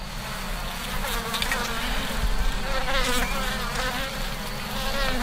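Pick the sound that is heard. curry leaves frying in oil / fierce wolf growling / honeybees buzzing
honeybees buzzing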